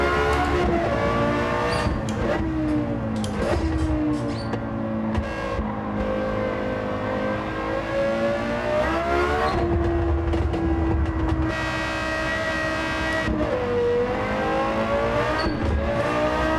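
A high-revving Lexus LFA V10 engine in Gran Turismo 7 roars continuously, pitch climbing and dropping with gear shifts, loud and close like a racing car.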